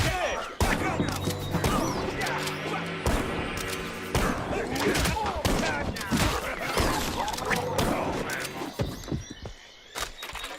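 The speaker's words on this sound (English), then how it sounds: "Okay. Who's shooting me? Oh, right. It's a Tommy gun." Tommy gun fire from the cartoon shooter game Mouse: P.I. For Hire comes in dense, loud rattling bursts with thuds and crashes, mixed with game music and someone talking over it.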